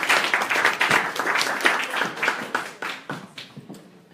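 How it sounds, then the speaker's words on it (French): Audience applause at an association's general assembly in Lyon: irregular, sparse claps from a smaller group, moderately close, thinning out toward the end. "Vous pouvez l'applaudir parce qu'elle a pris le relais."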